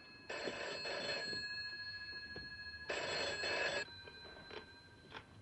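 An old telephone bell rings in two long bursts close by, each lasting about a second, separated by a pause, followed by faint clicks in a quiet room.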